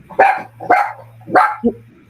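A dog barks three times in a steady rhythm, close and loud, and ends with a short higher yip against a faint low background hum.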